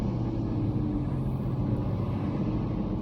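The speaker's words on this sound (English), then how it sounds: "You could do it with a garbage truck driving by." Garbage truck driving by outside, a steady low engine rumble that holds at constant loudness, heard through walls without speech.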